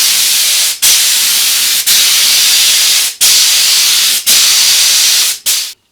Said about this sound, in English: now I'm going to use some brown paint, and I've got to use the spray gun